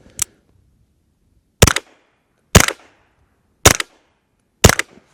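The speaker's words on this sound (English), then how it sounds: "I know people don't like it when I shoot steel with suppressors" Suppressed gunshots striking a steel target, five sharp cracks each followed by a brief metallic ring, evenly spaced with silence between them, loud and close.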